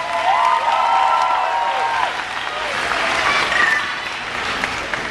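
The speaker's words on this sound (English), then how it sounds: "let's give them a round of applause" Audience applause at a Lee County school district graduation ceremony for the class of 2012, a sustained, moderately loud round of clapping from a large crowd with a few faint cheers mixed in.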